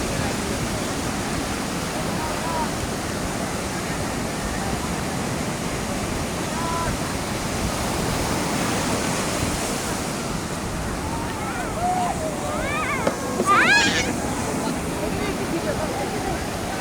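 Sea waves roll in as a steady, continuous roar of surf, with wind buffeting the microphone throughout and a few faint, higher sounds near the end.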